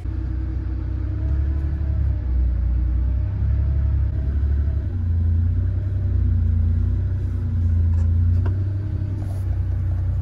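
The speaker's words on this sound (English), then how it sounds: "here's the car in all its morning glory getting warmed up" An air-cooled Porsche 911 warming up on a cold morning holds a steady, low idle rumble with slight wavering in pitch, close and continuous, with no talking.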